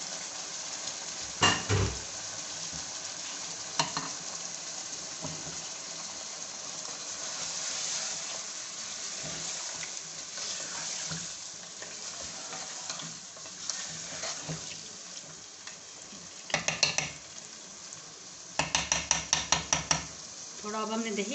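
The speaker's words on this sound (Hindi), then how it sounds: "दही डाल के अब भूनेंगे इसको" Chicken and yogurt frying in a pan for achari chicken, a soft steady sizzle broken by scattered scrapes and clanks of stirring, with louder bursts of rapid metallic scraping near the end.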